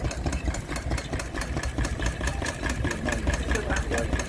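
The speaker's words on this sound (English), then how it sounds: "Lovely little worktop engine, look." A small stationary worktop engine idling at a vintage rally, a steady rapid chugging beat with a metallic rattle, close and loud.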